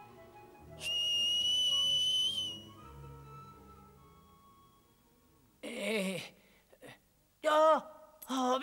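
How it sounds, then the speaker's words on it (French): A loud, high, sustained whistle rings out for about two seconds, followed after a quiet pause by gasps and strained vocal sounds in an underground sea cave. "Siffle aussi fort que tu pourras."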